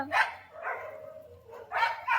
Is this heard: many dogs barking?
yes